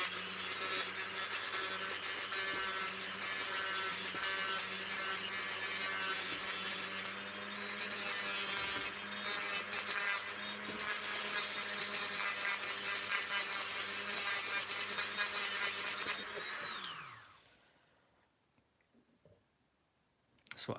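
A power tool with a cutting disc trims and smooths the end of a plastic customising part for a Doc Ock figure, whining steadily with rasping grind for about seventeen seconds before spinning down into near silence.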